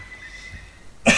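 A single short, sharp cough from a person with a mild cold, loud and close, bursting out suddenly after a stretch of near silence.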